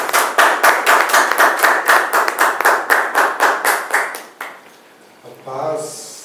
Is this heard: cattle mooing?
no